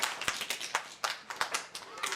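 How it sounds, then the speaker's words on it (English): An audience at a children's magic show gives scattered, uneven claps, a loose cluster of separate hand slaps that rise and fade over a couple of seconds. "So give yourselves a big clap for good ice cream choices."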